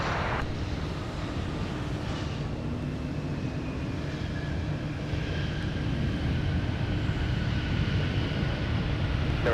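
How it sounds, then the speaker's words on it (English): A United Airbus A319 landing at Minneapolis–Saint Paul airport, heard as a steady, distant jet roar with broadband rumble holding evenly throughout. "we got an inbound United Airbus A319 about to touch down"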